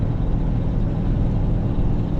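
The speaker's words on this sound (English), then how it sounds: "So there's a loud truck up here," A loud truck rumbles in slow bumper-to-bumper highway traffic, heard as a dense, steady low engine roar with broadband road noise from inside a 2019 Chevrolet Suburban RST, with no talking.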